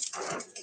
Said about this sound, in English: What is that noise? Is that your dog?